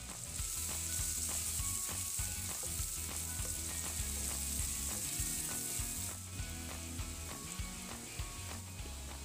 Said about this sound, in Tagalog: Isunod yung onion or yung sibuyas. Isaute din po siya.